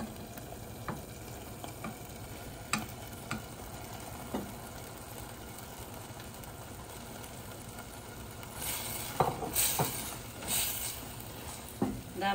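Chicken meat frying and being stirred in a pan for a Kazakh appetizer, a steady quiet sizzle with scattered utensil scrapes and clicks and a louder stirring burst near the end.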